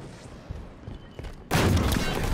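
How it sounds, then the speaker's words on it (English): A rocket launcher explosion in Halo 5 Guardians hits suddenly after quieter gameplay noise, a loud, close blast whose dense roar sustains to the end. "I blew him up with a rocket launcher"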